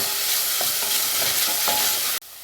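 Onions sautéing in a pressure cooker while making Turkish dried bean stew, a steady close sizzle with a few light scraping stir strokes, cutting off abruptly near the end to a quieter hiss.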